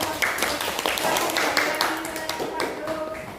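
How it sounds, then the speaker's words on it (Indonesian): A classroom of students claps for a group that has just finished presenting, with scattered uneven hand claps and taps under a steady murmur of young voices. "Tepuk tangan buat kelompok 2-nya"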